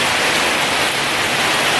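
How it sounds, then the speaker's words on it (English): Heavy autumn rain pours down in Washington, a loud, dense, unbroken hiss of water with no voices. "Here comes the rain."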